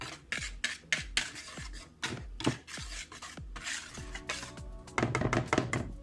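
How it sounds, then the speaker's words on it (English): Dry ingredients with salt and nutmeg stirred in a bowl for pumpkin bread, a quick series of rhythmic scraping strokes and dull knocks of a utensil against the bowl, close and fairly loud, with no talking. "we're just gonna mix this together"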